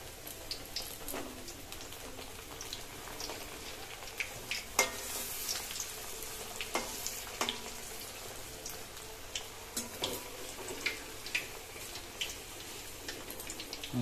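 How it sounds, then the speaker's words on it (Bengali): Beguni, battered eggplant fritters, frying in hot oil, a soft continuous bubbling sizzle with scattered faint ticks and light pops, heard alone at a low level. "আমরা এখানে সমস্ত বেগুনিগুলি ভাজবো, খুব সুন্দর রয়েসই ভাজবো"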